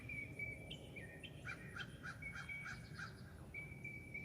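Crows visit a tree, giving a run of short, evenly spaced calls mixed with other birds' thin whistles and chirps, moderately distant over a low outdoor rumble, with no voices.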